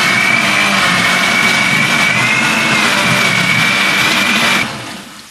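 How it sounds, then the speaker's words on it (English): A blender whirs steadily and loudly while blending tomatoes, peppers, garlic and ginger for a Ghanaian egg stew, with a high motor whine running for about four and a half seconds before cutting off abruptly. "So I'm going to start blending them all together."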